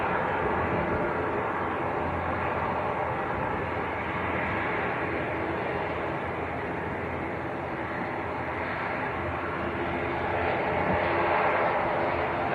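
An Aer Lingus ATR 72 departs Manchester Airport for Belfast, its engines a continuous broad roar that holds steady and swells slightly toward the end.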